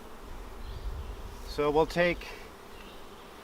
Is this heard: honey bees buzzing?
yes